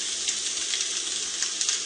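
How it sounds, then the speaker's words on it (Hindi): Onions fry in a pan with a steady, loud, bright sizzle and faint crackles throughout, close and continuous, with no talking. "मिक्स करके फ्राई कर लेंगे।"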